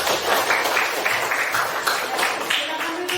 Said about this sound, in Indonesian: tepuk tangan untuk Niko.